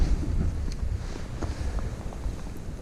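Steady low wind rumble buffets the microphone outdoors at a camp spot, a constant blustery whoosh with faint scattered ticks.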